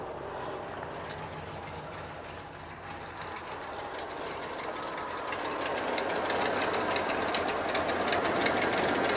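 A 1988 Jeep Grand Wagoneer engine idles a bit too low, giving a continuous, close, steady rumble with a faint knocking pulse that grows slightly louder toward the end.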